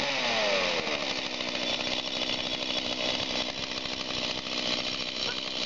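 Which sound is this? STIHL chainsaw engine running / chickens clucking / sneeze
STIHL chainsaw engine running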